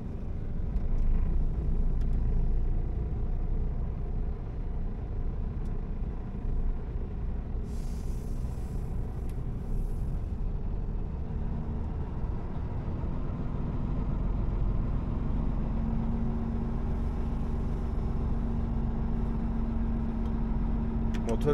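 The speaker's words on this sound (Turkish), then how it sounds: "Motorun sesini duyuyor musunuz bilmiyorum ama" Truck engine running on the road in cold weather, a steady deep rumble and drone close by, continuous and unchanging, with faint higher hiss and brief rattles over it.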